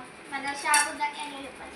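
Plates and cutlery handled while serving fasting food for Ashadhi Ekadashi, a few close clinks and clatters mixed with talk.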